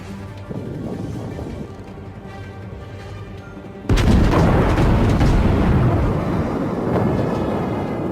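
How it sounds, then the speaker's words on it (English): Battleship U.S.S. Colorado ripple-fires its main guns in a World of Warships ranked battle: loud, continuous rolling booms burst in partway through and overlap over a steady rumbling game backdrop. "fire ripple fire instead of one big salvo, just to make sure I actually got a hit on him"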